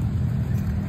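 A motorcycle passes close by with a loud, low engine rumble over a brief moment, with no speech.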